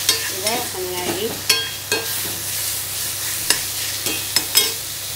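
Mango pieces sautéing in a pan for Srirangam-style mango thokku, a steady close sizzle with intermittent scraping stirs and clinks of the spoon against the pan.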